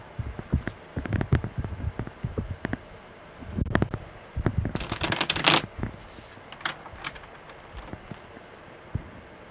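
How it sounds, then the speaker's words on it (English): Tarot cards being shuffled by hand, with a few soft riffles and taps leading into a dense, crisp burst of shuffling, then scattered light card flicks, close and clear with no talking. "one more good shuffle"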